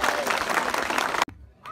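A crowd at a Colombian campaign rally in Simijaca claps loudly for a mayoral candidate, dense applause that cuts off abruptly near the end, followed by near silence and a brief return of sound.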